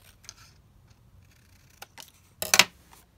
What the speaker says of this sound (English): trim the tag down